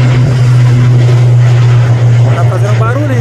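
An airliner takes off at Viracopos airport in Campinas, with a loud steady engine drone throughout and voices talking over it.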